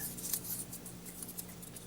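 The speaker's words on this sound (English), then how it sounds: "This I am going to cut with the scissors" Scissors snip through paper while a small house terrain model with an A-frame roof is being built, giving a few quiet, close crisp cuts with no talking.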